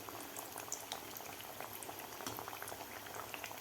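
Matar kachori deep-frying in oil over medium heat, a dense, continuous bubbling and fine crackle from the oil, fairly quiet and steady throughout.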